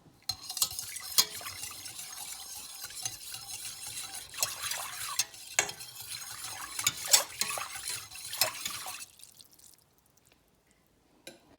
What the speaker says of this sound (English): We're gonna whisk that right back together.